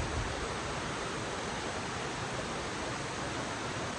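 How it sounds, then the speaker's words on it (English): Rushing waterfall carving bedrock after heavy rain, a dense, even roar of falling water filling the whole stretch without pause. "waterfalls this morning, checking it out."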